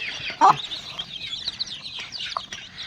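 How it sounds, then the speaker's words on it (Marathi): A hen clucks close by in short, sharp bursts, with a louder squawk early on and lighter chatter after. "हे बघा हे बघा कसं करत आहे कोंबडी"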